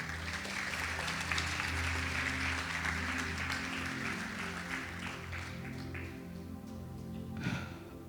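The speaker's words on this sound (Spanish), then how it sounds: "Puedes darle un gran aplauso a mi Jesús." A church congregation claps in applause, a steady wash of clapping under low sustained organ-like tones, tapering off gradually near the end.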